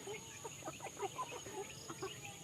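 Six laying hens fed on layer feed cluck softly and repeatedly in a quiet coop, a string of short, faint calls with no talking.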